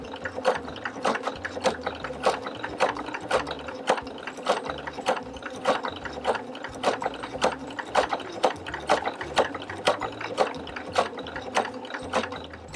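A sewing machine runs a zigzag seam joining fabric strips, its needle thumping in a fast, even mechanical rhythm close up and continuous throughout.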